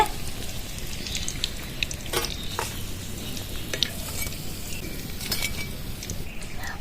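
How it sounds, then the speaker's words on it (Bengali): Rohu fish fingers fry in a pan with a soft, crackly sizzle and scattered spattering pops, fairly faint and close, with no talking. "দেখুন বন্ধুরা এরকম লাল লাল করে ফিশ ফিঙ্গারগুলো ভেজে নিতে হবে"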